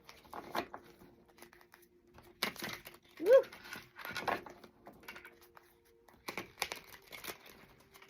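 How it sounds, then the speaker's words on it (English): A small deck of cards gets shuffled in a few quick papery riffles and patters, close and fairly soft, with a brief spoken exclamation in between. "Shuffle these really well."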